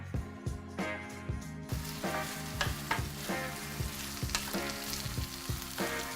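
Thick lamb sauce sizzling and cooking down in a pan, with repeated rhythmic spoon scrapes and stirs over a steady bubbling hiss, close and without talk.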